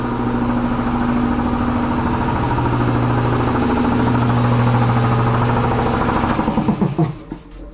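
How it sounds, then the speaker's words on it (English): An air compressor at a mobile tire shop runs with a loud, steady mechanical drone close by, then cuts off abruptly near the end, leaving a brief rattle and quiet. "let me go turn off this air compressor that we just left on. It makes a lot of noise"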